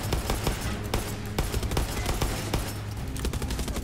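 Dense, loud gunfire in the video game Far Cry 6, a rapid continuous fusillade of repeated shots over the game's background noise.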